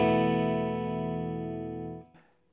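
Electric guitar played through a Fender Pugilist distortion pedal with the gain rolled back gives a single sustained, lightly driven chord that rings loud and then decays before cutting off near the end.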